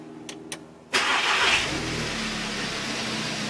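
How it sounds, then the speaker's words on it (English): An Audi fitted with a DSG transmission gives a few soft clicks, then the engine cranks and catches abruptly and settles into a steady, close idle. "So we're going to go ahead and start the vehicle."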